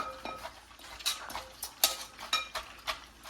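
Chili peppers are gently pounded in a mortar for papaya salad, giving soft rhythmic clacks and taps about every third of a second, close up with no talking.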